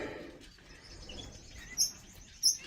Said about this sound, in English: So those are just some Goldians and canaries, some zebra finches.